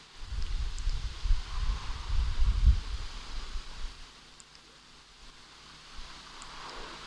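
Wind gusting outdoors around rotating solar panels, a rough low rumble of buffeting that is louder early on and eases off toward the end, with no talk.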